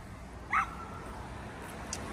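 A six-and-a-half-year-old dog gives one short, high yelp early on, then stays quiet against faint room noise with no talking.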